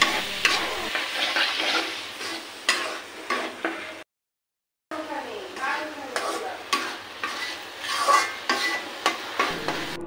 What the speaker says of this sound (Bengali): ডাল দিয়ে ভালো করে তরকারিটা কষিয়ে নেব